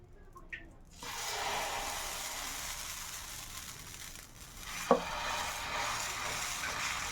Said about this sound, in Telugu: ఇప్పుడు మనం దీన్ని దోశని టర్న్ చేసుకుంటున్నానండి